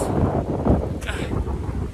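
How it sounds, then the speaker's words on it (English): Strong wind buffeting the microphone in rough low rumbles, with a brief hiss of gusting air partway through. "it's really windy now, you probably can't hear me. You got this wind"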